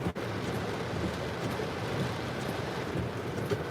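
Heavy rain lashing a storm-chasing vehicle during a hail and tornado threat in central Virginia, steady broadband roar with wind gusts buffeting the microphone, loud and continuous.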